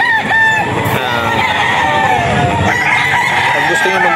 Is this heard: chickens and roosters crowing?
yes